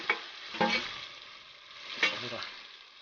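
Crushed ginger, garlic and shallots hit a hot pan while cooking chicken kadai, giving a close, steady sizzle with a few sharp stirring clatters near the start and middle.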